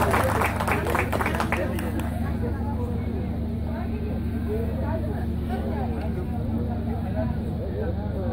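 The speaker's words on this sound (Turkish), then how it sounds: "Alkışlar nerede?" An audience claps at a women's championship final, with a short burst of applause at the start that fades into crowd murmur while an announcer talks over a loudspeaker.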